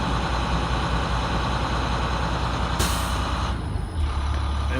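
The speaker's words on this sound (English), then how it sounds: "when the bus makes that sound like it's breathing, that's when you know your gauges are back to where it's supposed to be" A school bus air brake system builds pressure with the engine idling, a steady close rumble and hiss that ends in a sharp release of air followed by a deeper low throb, with no voices.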